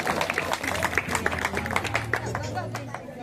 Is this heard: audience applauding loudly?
yes